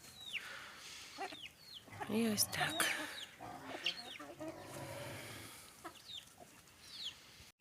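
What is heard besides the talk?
chickens clucking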